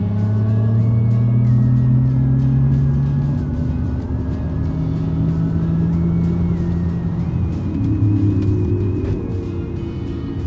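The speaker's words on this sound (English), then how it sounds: "let's see how fast this EQS accelerates" A Mercedes-Benz EQS 450+ electric luxury sedan accelerates hard, its motor whine rising and stepping up in pitch over a steady road and tyre rumble, heard from inside the cabin without talk.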